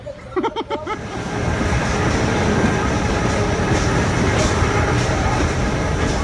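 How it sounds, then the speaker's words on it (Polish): A mountain railway train rumbles steadily along the track uphill, a continuous loud low roar with rattling, after a few brief sounds at the very start. "Idziemy kolejką już na górę zobaczyć pomnik Jezusa"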